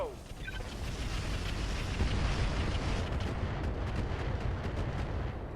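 Mech weapons fire in the RogueTech video game as a dense, continuous roar of booming blasts and rumbling impacts, loud and sustained with a faint crackle near the end.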